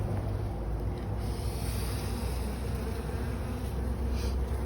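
Bees buzzing steadily at a backyard hive, a continuous close hum that stays loud and even for the whole stretch with no talking.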